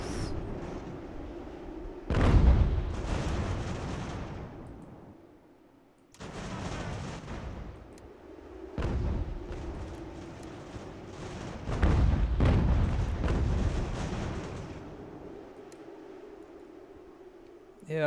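Gunfire and cannon booms come from the musket-era strategy game Ultimate General: American Revolution. Several heavy rumbling volleys swell and fade over about eighteen seconds, fairly distant and low in level.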